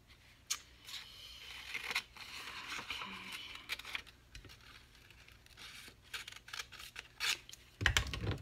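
Scissors snip and cut through paper or cardstock during eyelet crafting, giving a series of close, crisp, irregular cuts with rustling and crinkling between them and a louder burst of handling noise near the end.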